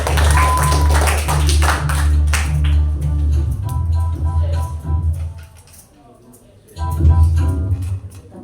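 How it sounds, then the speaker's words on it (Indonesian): A classroom of students clapping their hands together, a dense, fairly loud burst of claps that fades out midway, with sustained tones and low hum running underneath. "Tepuk tangan untuk kalian semua"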